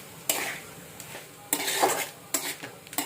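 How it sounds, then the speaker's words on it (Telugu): Garlic karam with bitter gourd fries in a pan while a spoon stirs it, giving several distinct scraping clinks against the metal over a faint sizzle. "ఒక 2 మినిట్స్ ఇలా మధ్య మధ్యలో కలుపుకుంటూ ఫ్రై అవ్వనివ్వాలి"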